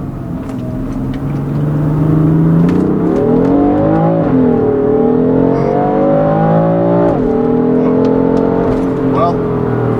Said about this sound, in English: the shifts are impressive when you rev it all the way out